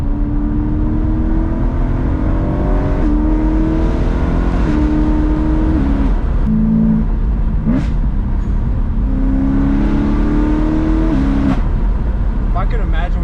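A Dinan stroker BMW M3 E92 engine revs and accelerates hard, its loud droning tone climbing in repeated pulls with brief drops between gear changes, while people talk over it from inside the car.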